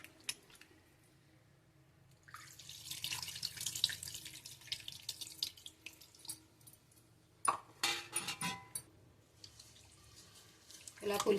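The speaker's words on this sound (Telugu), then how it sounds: "చింతపండు పులుసు పోసుకుందాం అండి." Tamarind juice poured into a fish curry (katti parugulu pulusu) in a kitchen pot, giving a splashing, trickling liquid sound in uneven bursts, with quieter gaps and some handling noise, close by.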